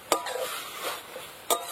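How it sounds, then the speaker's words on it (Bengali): Khesari greens being stirred in a cooking pan, heard as two close, sharp metallic scrapes of the utensil against the pan at the start and end, with soft shuffling of the leaves between them. "একটু ভালো করে ঘেটে ঘেটে নেড়ে দিতে হবে।"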